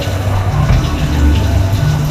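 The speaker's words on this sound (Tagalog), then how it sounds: "Sarap pa yung shower." Water from a shower runs in a steady, loud hiss close by, with a constant broadband rush and low splashing, alone without talk.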